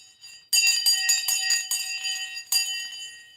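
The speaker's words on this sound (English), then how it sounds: "The bell gone and I missed it" A bell rings loudly and repeatedly in bright, metallic strikes, starting abruptly after a moment of near-silence and restriking near the end.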